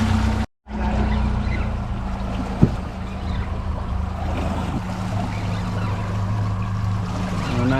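A skiff's motor drones steadily with low rumbling hum and water noise while slowing to about 5 mph, briefly cutting out near the start, then continuing evenly.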